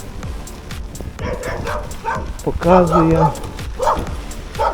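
A few dogs bark and yip in the background while someone talks over them, with a brief burst of louder barking midway.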